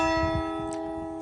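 A church bell in an English countryside village sounds once, heard close and loud, its bright ringing tone decaying slowly over the moment.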